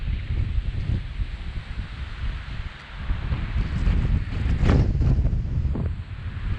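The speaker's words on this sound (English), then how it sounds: "The wind is not my favorite." Strong wind blows steadily across an outdoor spot in Rocky Mountain National Park, a constant low roar with gusts that swell and buffet close to the microphone, and no one speaks over it.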